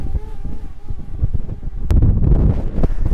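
Strong wind buffets the microphone outdoors during a high-wind test of a DJI Mavic Air drone, a loud, rough, steady rumble that swells and thumps in gusts.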